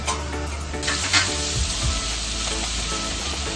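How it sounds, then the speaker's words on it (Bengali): Coconut milk from a medium coconut goes into frying masala for prawn malaikari, giving a steady close sizzle that flares briefly as the liquid hits the hot pan, with no talking. "এবার এই দুধটা আমি আস্তে আস্তে করে অ্যাড করব।"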